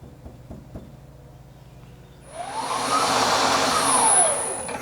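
A machine cutting a metal part round for a neon clock starts up after a few faint knocks, then a steady loud whirring cut with a high whine holds for the last couple of seconds.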